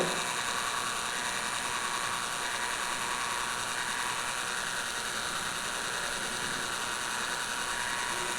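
Electric idiyappam press driving rice dough downward, a steady mechanical ratcheting whir of motor and gears running continuously at low, even volume with no voices.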